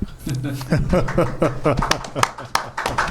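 Scattered hand claps ring out over ongoing speech, a brief burst of applause mixed with talking and light laughter.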